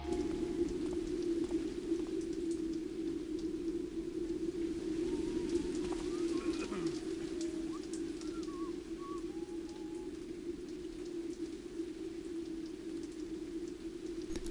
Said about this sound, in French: Les gouttelettes ricochent sur le sol et l'eau dégouline en torrent des toits et des gouttières.